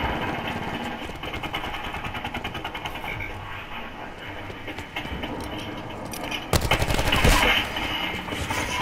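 Rapid gunfire bursts in a Call of Duty: Black Ops 4 multiplayer match run steadily throughout, swelling into a louder, denser volley near the end.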